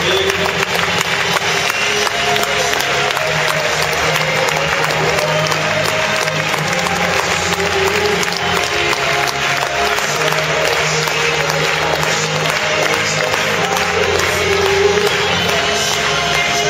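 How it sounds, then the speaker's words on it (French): A large audience at a charity gathering applauds donors for a long, steady stretch of dense clapping, loud and continuous throughout, with faint cheering mixed in. "je vous propose de vous lever pour qu'on vous applaudisse"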